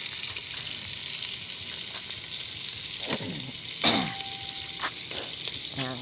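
Dinner sizzles steadily in a pan as someone stirs it, with scraping strokes and a few louder clatters over the continuous frying hiss, and no voices.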